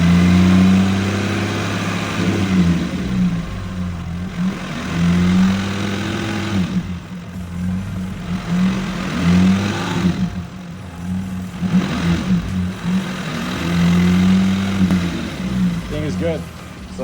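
A 2009 Mazda 6 3.7L car engine revs up to 2,000 RPM during a coolant flush and holds at a steady raised pitch, with a person talking over it throughout.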